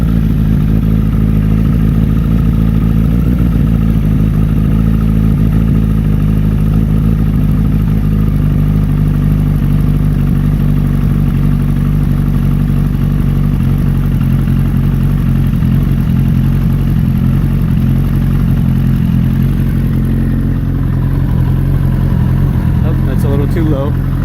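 A motorcycle engine idles steadily while its Factory Pro Long Boy extended fuel screws are being tuned, a constant loud low rumble with even mechanical clatter throughout and a slight change in tone near the end.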